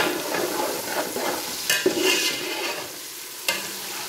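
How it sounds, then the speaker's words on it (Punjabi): Chicken pieces being stirred and fried in a pan, a steady close sizzle with scraping spoon strokes and a few sharper clinks against the pan. "ਹੁਣ ਅਸੀਂ ਇਹਦੇ 'ਚ ਪਾ ਰਹੇ ਹਾਂ ਜੀ ਚਿਕਨ ਚਿਕਨ ਨੂੰ ਅਸੀਂ ਅੱਛੀ ਤਰ੍ਹਾਂ ਭੁੰਨ ਲਵਾਂਗੇ"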